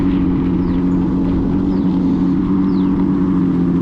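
A Revolt RV400 electric motorcycle plays an artificial engine sound through its speaker: a steady, loud, synthetic motor hum with layered tones that holds unbroken throughout.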